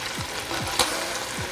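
Chicken strips for fajitas fry in a hot pan with a steady, close sizzle, broken by a few soft scraping stirs and one sharp clack of a utensil.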